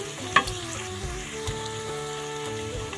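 Two medium onions, finely chopped, frying in a pan, a soft steady sizzle with a sharp clink near the start and light stirring knocks over background music.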